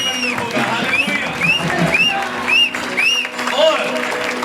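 A church congregation applauding during a Christmas celebration service, steady crowd clapping that fills the space, mixed with sustained tonal sounds and voices.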